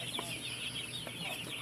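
Chickens at a Philippine poultry farm in Lopez, Quezon cluck softly and intermittently over a steady hum of farm equipment, with a few brief calls standing out.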